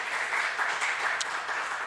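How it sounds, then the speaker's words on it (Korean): A church congregation claps in welcome during a Friday service, a dense, even applause heard from within the room that holds steady throughout, with no voices. "여러분 큰 박수로 좀 환영해 주시면 감사하겠습니다."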